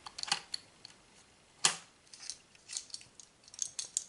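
A ZenPop Halloween box is opened by hand, giving crisp crackles and tearing of packaging in scattered bursts, one sharp rip in the middle and lighter rustles after, close up and without speech.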